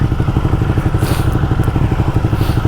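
Premium Italian and Austrian motorcycles ride along with a loud, steady, throbbing engine pulse close up, a continuous rumble with crackle and rushing wind but no speech.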